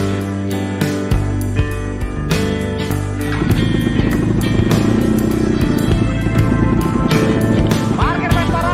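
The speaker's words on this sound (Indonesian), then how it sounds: "Kita gaspol naik Vespa." Vespa scooter riding with its engine running, a steady buzzing drone with clicks and road rumble, rising slightly as it picks up pace, with talking over it.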